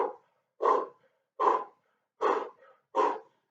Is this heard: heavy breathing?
yes